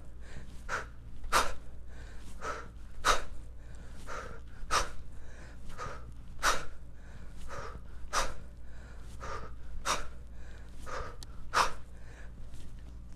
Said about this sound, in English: So listen to the differences in the two exhales.